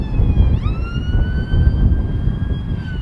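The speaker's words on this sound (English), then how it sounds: "Oh, it's just an ambulance." An ambulance siren wails with a long rising-and-falling tone over loud rumbling traffic and wind noise on a Blackpool roadside, where people wait for an air display.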